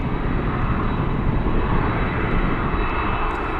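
Cargo aircraft engine roar at Anchorage airport near runway 15 on a gusty day, a steady, loud broadband rumble held throughout with no breaks.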